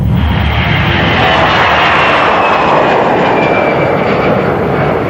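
Jet engines of an Air Inter era French airliner roar at takeoff power during the takeoff roll, a loud, steady broadband rush with a rising whine, heard continuously from inside the aircraft with no talk.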